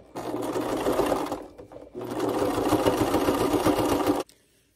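A sewing machine runs in two fast, steady bursts with a brief pause between, stitching the edges of a belt up close before stopping abruptly into silence.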